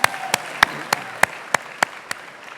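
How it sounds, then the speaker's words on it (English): Audience applause at a chamber of commerce annual dinner, heard as eight crisp, steady claps in an even rhythm over a hum of a busy banquet room. "big round of applause to you"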